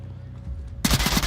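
Gunfire in a VR shooter match, a sudden loud burst of rapid shots after a quiet stretch of low game ambience, continuing to the end.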